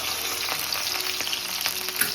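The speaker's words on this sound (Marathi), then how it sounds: "आता आपण कढीपत्ता टाकू आणि ठेचलेला लसूण, त्याच्यानंतर बारीक चॉप केलेली मिरची असं तेलामध्ये फ्राय करून घ्यायचं" Curry leaves, crushed garlic and finely chopped chilli fry in hot oil, giving a dense, even sizzle close up with small pops scattered through it and no voices.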